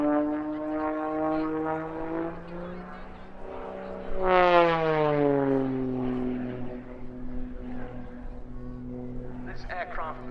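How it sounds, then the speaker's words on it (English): An Extra EA-330SC aerobatic plane performs an extended rolling tail slide at an RAF Cosford airshow, its propeller engine droning loudly and steadily with a sharp rising surge in pitch midway. "This aircraft very much at the cutting edge of the modern unlimited aerobatic art. An extended rolling tail slide."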